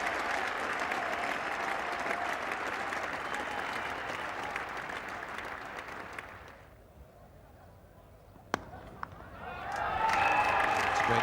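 A cricket crowd at Lord's applauds Gordon Greenidge reaching fifty, a broad sustained wash of clapping that fades away, followed by a sharp bat-on-ball crack and then renewed applause, with a commentator's voice over it.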